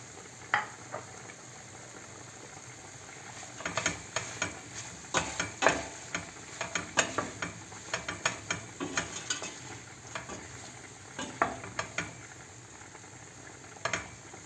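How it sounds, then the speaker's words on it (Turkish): Green peppers and onions frying and being stirred in a pan, a steady low sizzle with frequent sharp clinks and scrapes of a utensil, close by, no talking. "Doğramış olduğum yeşil biber ve soğanımı da ilave edip güzelce kavuruyorum"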